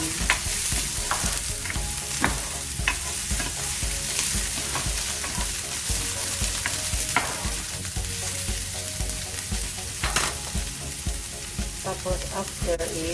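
Onion fries in a pan for corned beef fried rice, a continuous sizzling hiss broken by occasional clinks and scrapes of stirring.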